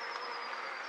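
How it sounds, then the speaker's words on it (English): Honey bees at the entrance of a top bar hive, a continuous close buzzing drone that stays steady and fairly loud for a brief moment. "the older bees are coming in and they're noticing that something's a bit kind of out of kilter"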